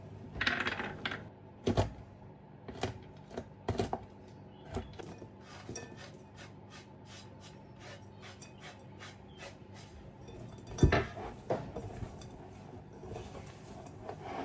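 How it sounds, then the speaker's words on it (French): A knife chops hazelnuts on a board in a quiet kitchen, a series of sharp, quick taps in irregular bursts, faint and close, with a few louder knocks. "Je vais désormais couper mes noisettes."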